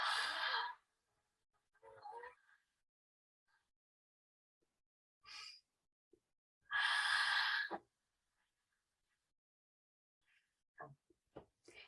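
Slow, deliberate breaths in and out during a calm hand-holding relaxation exercise, a few soft airy bursts spaced apart by silence, close and quiet with no other sounds.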